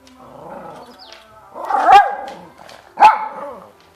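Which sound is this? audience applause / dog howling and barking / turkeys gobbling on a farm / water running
dog howling and barking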